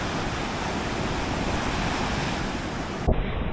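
Continuous roar of ocean surf breaking at a surf spot, broad and steady with wind buffeting the microphone, and a brief thump near the end.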